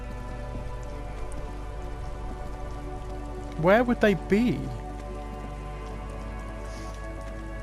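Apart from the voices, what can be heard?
rain at night in video game Disco Elysium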